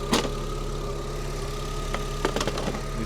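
A supercharged Mercedes-Benz AMG engine on a 32-series car runs at a steady, close idle with a low hum, broken by a few brief sharp clatters near the start and end; nobody talks.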